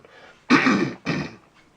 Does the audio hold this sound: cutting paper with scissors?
no